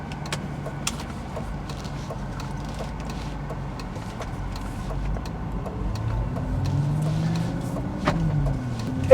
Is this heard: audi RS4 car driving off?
yes